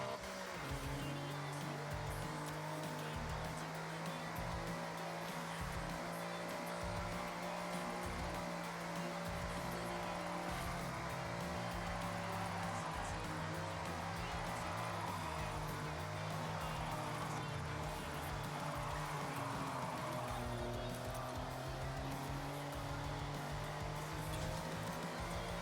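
A car drifting through a drift zone in Forza Horizon 6 on Xbox Series X holds a steady engine drone under a continuous tire squeal, loud and unbroken for the whole stretch, with quiet talk mixed in.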